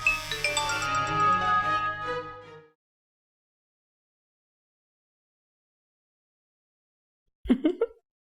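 A brief electronic notification tone from a mobile phone receiving a message, heard in a Pakistani telefilm drama scene. A short musical passage ends first, then after several seconds of silence a single clear tone chirps alone near the end.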